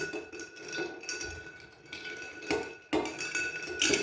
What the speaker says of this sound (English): So I'm just going to stir it around to get it cold.